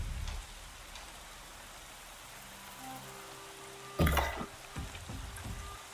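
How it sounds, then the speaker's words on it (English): Rain falling in the open-world game Horizon Zero Dawn Remastered, a steady broadband hiss with a louder burst near the middle and faint musical tones underneath, no talk. "It's raining."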